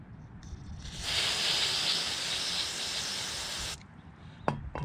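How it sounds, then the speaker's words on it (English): A steady aerosol spray of electronic contact cleaner hisses for about three seconds onto a trailer wiring plug, then cuts off sharply, followed by a faint clink. "Then you're going to spray the plug side of the trailer."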